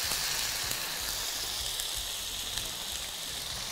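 Garlic frying in a pan, quenched with vinegar, gives a continuous bright sizzling hiss at moderate level, even and unbroken for a few seconds, with no talking.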